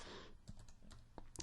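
A few scattered keystrokes on a computer keyboard as text is typed into a form field, faint and sparse clicks spread over a short moment with a soft background hiss.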